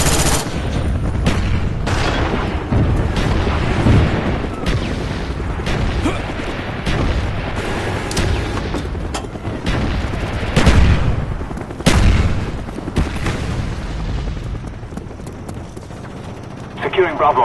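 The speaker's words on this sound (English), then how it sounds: "Mortar team coordinates received." Mortar strike in Call of Duty: Black Ops hardcore domination multiplayer, a series of heavy booming explosions and bursts of gunfire scattered across the scene, loud and near, mixed with in-game radio voices.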